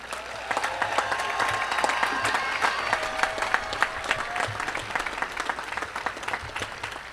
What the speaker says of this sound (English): Let's give a big round of applause to those students.